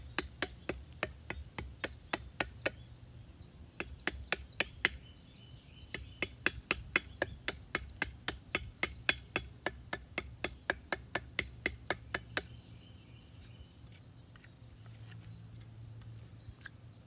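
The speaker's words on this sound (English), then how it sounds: "rounding the top so you can hammer it in" A steel hammer drives a hand-carved wooden tent peg into the ground outdoors at a campsite, striking in a steady run of sharp, fairly faint knocks for about twelve seconds before stopping, with a quiet ambient background and no talking.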